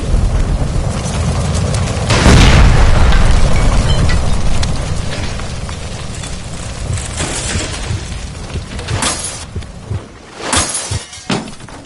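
A gas line explodes in the video game L.A. Noire, with a loud booming blast and a rumbling roar that slowly fades, followed by scattered crashes and debris impacts.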